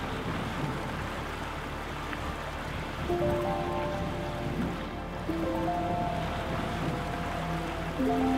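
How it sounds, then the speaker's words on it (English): Heavy rain shower pours down around a Jeanneau Sun Odyssey 42 DS sailboat entering Dockan Marina in Malmö, a dense continuous hiss with faint tonal whines, no voices. "we got caught by a big rain shower"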